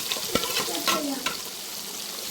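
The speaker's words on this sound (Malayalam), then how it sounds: "ഇത് സോസേജ് ലാസ്റ്റാണ് വറുത്തെടുക്കുന്നത്" Chicken sausages fry in a pan with a steady, close sizzle, broken by a few sharp scrapes and taps as they are turned.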